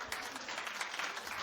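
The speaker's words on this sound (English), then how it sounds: "Clap if you are." A television talk show studio audience claps steadily throughout, a dense, even wash of applause with no pauses and no other sound rising above it.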